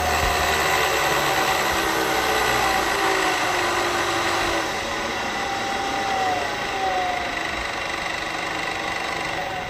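A-Trump CNC 3-axis vertical mill spindle spinning at top speed, around 5,000 RPM, giving a steady high-pitched machine whine with broadband noise that holds constant throughout, close and with no talking.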